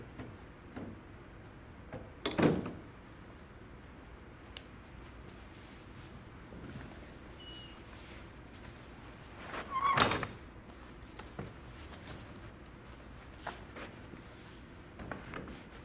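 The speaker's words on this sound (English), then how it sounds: "so we're going to open the mech again." Metal mechanism of a Comfort Sleeper sofa bed being opened during assembly: two sharp clunks several seconds apart, with faint creaks and small knocks in a quiet room.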